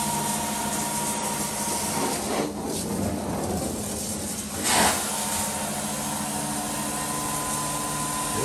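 A carpet cleaning machine steams and extracts over filthy carpet in a vacant move-out apartment, a loud steady broadband hiss and motor drone with a brief surge near the middle, no voices.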